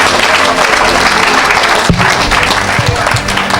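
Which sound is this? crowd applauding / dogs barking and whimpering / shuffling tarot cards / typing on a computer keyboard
crowd applauding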